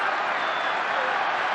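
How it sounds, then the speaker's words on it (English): A stadium crowd at an NRL rugby league match at ANZ Stadium, Wests Tigers against Sydney Roosters, roars and applauds in a dense, continuous wash of cheering, with a commentator's voice over it. "So the crowd are on their feet here at ANZ."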